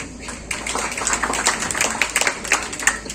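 Steady applause from an audience at an event honouring percussion master Mattannur Sankarankutty Marar, a dense patter of many hands clapping continuously throughout, moderately loud.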